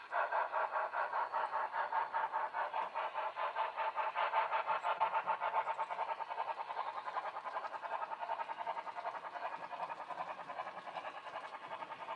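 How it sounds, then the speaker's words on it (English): A BLI Paragon model train locomotive sound system plays a steady, rhythmic chuffing pulse, fairly quiet and continuous, with no one speaking over it. "My BLI has the best sounds I've ever heard from any locomotives"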